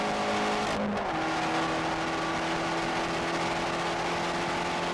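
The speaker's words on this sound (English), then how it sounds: "because of this exhaust note, you want to nail your heel toe just so you can hear yourself blip the throttle" Turbocharged Fiat 500 Abarth engine drones steadily under load, its raspy exhaust note shifting pitch briefly as the throttle changes, loud and close throughout.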